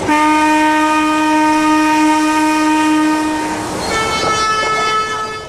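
A steam locomotive whistle on the Darjeeling hill railway sounds in one long steady blast, shifting slightly in pitch near the end over a faint rolling rumble.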